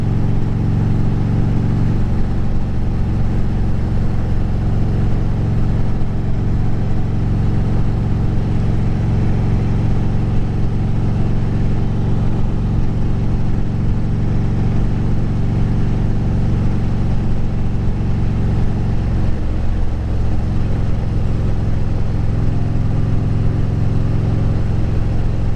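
Steady, deep engine rumble of a 2010 Harley-Davidson Street Glide Ultra cruising on a night ride, close and continuous, with a slight drop in pitch near the end as the throttle eases.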